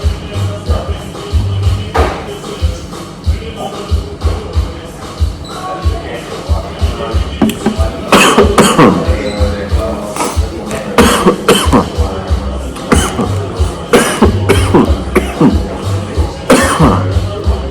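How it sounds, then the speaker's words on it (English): Repeated coughing and throat clearing after smoking a joint, close and fairly loud, in bursts across the clip with shuffling, thumps and handling noise between fits, in a coffeeshop in Eindhoven, Netherlands. "It's expected that I'm going to be a bit coughing"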